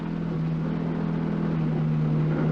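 A steady engine drone with a strong low hum, continuous and fairly loud, with no revving or turbo chirps, as of a rally car coasting after losing power, engine still running.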